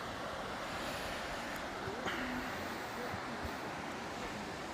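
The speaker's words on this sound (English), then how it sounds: "Just listen to that water running." Water runs steadily through a ravine with a dense, constant rush that never lets up, heard outdoors with some wind buffeting the microphone.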